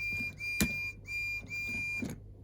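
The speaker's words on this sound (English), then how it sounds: "That was his whistle." A bright, sustained electronic whistle tone from a die-cast Percy toy train sounds in three long blasts, separated by short pauses, with a sharp click near the start.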